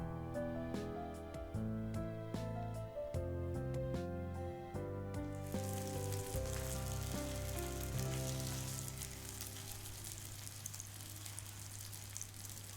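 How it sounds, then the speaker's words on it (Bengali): Leaf-wrapped lentil dal paturi frying in a pan over a medium flame gives a soft, even sizzle that is faint beneath tonal background music at first and grows more prominent in the second half. "সময় নিয়ে আস্তে আস্তে পাতুরিগুলো ভাজতে হবে।"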